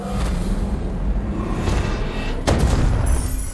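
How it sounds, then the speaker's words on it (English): A big explosion in the roguelike game Curse of the Dead Gods, set in the Temple of the Jaguar, booms out of a dense stream of rumbling game noise, with a sharp, loud blast near the end. "That big explosion would probably have killed me if it hit."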